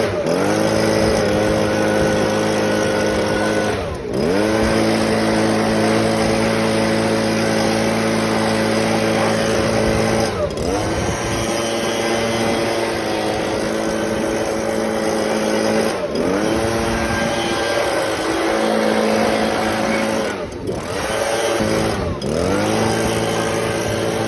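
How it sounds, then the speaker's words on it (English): Leaf blower drying off a freshly washed E-Ton Viper 70 motorcycle, a loud close motor whine with a steady drone that briefly cuts and dips every few seconds as it is moved around. "I'm just going to grab the leaf blower and dry it up pretty good"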